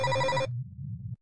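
A telephone rings once in a horror video game with a baby, a bright electronic trill that cuts off abruptly and leaves a low hum droning for a moment.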